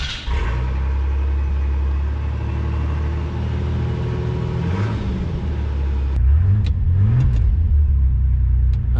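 A NASCAR truck engine, dusty from sitting in a shop with its carburetor idle recently turned down, rumbles steadily at close range and then blips through a few revs as it settles toward idle.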